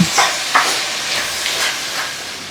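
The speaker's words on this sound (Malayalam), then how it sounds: "നമ്മൾ ഉള്ളിയൊക്കെ വഴറ്റണ മാതിരി നന്നായിട്ട് വഴറ്റിയെടുക്കണം" Chopped pineapple sautés in a pan for a theeyal, stirred steadily: a loud, close, broad sizzling hiss overlaid with a few scraping strokes of the spoon, with nobody speaking.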